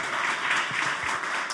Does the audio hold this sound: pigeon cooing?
no